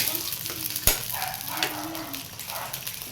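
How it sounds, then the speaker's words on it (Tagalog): Sardines sautéing with papaya in a frying pan, a continuous close sizzle with occasional stirring clinks and one sharp utensil knock, steady and fairly loud throughout. "Isahin mo ng kunti yung sardinas para mabango."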